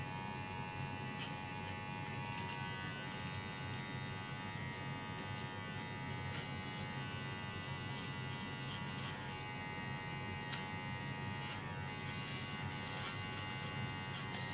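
Mini hair clipper buzzing steadily during dog grooming in a salon, a constant electric hum that stays even and unbroken throughout.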